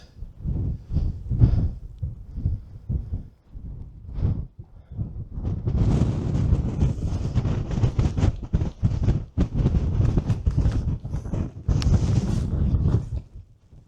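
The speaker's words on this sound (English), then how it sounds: "Let's get down out of the wind." Gusty wind buffets the microphone high on a Lake District fell above Crummock Water, with broadband roaring rushes that build and stay loud from midway, interrupted by brief lulls; earlier stretches are quieter with intermittent gusts.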